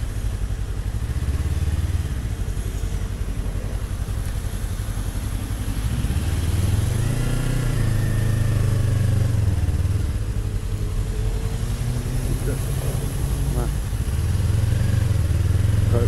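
Engine of a 2022 Yamaha MT-03 motorcycle idles and rumbles steadily up close, with a couple of rising revs around the middle and toward the end, plus light clatter in the background.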